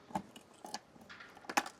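A few metallic clicks and rattles of a key working the lock of a Voge SR1 motorcycle top case, short sharp bursts spaced across a couple of seconds.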